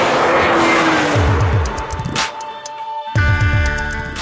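A BMW M3 CSL on Isle of Man roads, its engine revving hard through rising gear pulls with sharp shift breaks, loud and close, a brief dip to near quiet before it roars up again.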